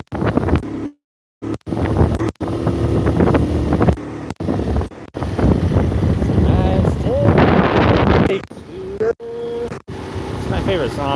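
A Vespa scooter engine runs loud and close outdoors, with heavy wind buffeting the microphone, a few brief dropouts, and voices at times.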